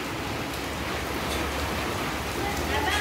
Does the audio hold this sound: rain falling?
yes